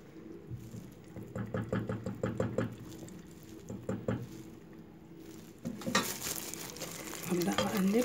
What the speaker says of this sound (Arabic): هبدا اقلب تاني كمان عشان يبقى متشبع بطعم الكراميل بتاعي